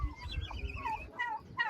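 Young turkey chicks crowding around fresh feed, chirping and peeping in short rising calls close by, with soft pecking and shuffling underneath, fairly quiet and continuous.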